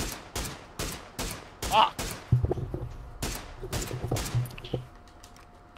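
Bursts of gunfire in the battle royale game PUBG crackle in rapid, uneven volleys throughout, some close and sharp, others more distant, while a player talks and swears over the shots.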